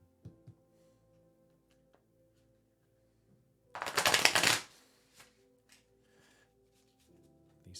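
Large, heavy tarot cards are riffled and shuffled close up in one dense burst of papery flutter lasting about a second. Scattered soft taps from handling the cards come before and after it in a quiet room.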